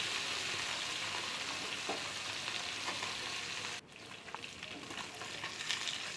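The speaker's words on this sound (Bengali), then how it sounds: "বাটা মাছগুলো এক পাশ কিন্তু ভাজা হয়ে গিয়েছে আমরা কিন্তু এবার উল্টে দেবো" Bata fish frying in oil in a pan, a close, steady crackling sizzle with stirring and scraping, briefly dipping as the pan is handled midway, no talking.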